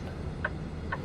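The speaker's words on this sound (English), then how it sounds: "let's see if the turn signals work" A truck's turn signal relay ticks twice in an even rhythm, soft clicks over a steady low engine idle.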